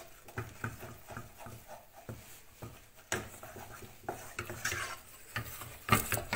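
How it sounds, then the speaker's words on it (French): Choux pastry dough being stirred in a pan just after the flour goes in, giving a series of soft scraping and knocking strokes, fairly quiet and irregular, with no talking. "je remue bien"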